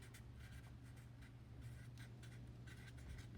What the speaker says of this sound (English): I'll just write it again.